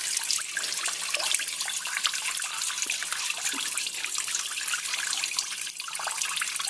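Fuel drains from an engine crankcase into a container in a steady, continuous splashing stream, close and even with no pauses.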